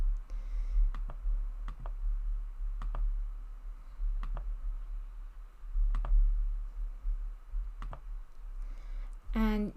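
Sharp, isolated mouse clicks at irregular intervals, close and fairly quiet over a low hum, while picking a logo style in a website builder, ending with a brief electronic chime-like tone.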